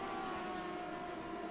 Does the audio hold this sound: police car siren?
yes